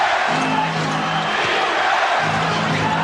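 A crowd roars continuously in a basketball arena during an NBA game, a dense steady wall of cheering and shouting with no breaks.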